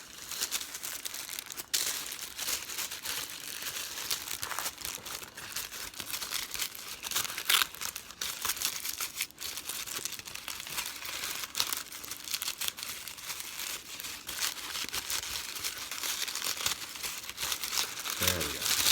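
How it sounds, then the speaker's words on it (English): A paper sleeve around a 1994 Château Mouton Rothschild wine bottle is carefully opened, with continuous close crinkling and rustling of the paper and occasional sharper tearing crackles throughout. "They come in these paper sleeves here. We open this up carefully."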